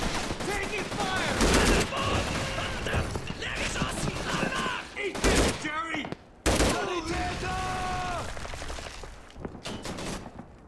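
Heavy gunfire fills a World War II battle in Call of Duty 3, with rapid rifle and machine-gun bursts close by, brief pauses, and soldiers shouting over the shooting.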